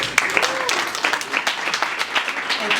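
Audience applause at a Minnesota community event against opioids, a steady wash of many hands clapping at moderate distance, with a few sharper nearby claps and faint voices mixed in.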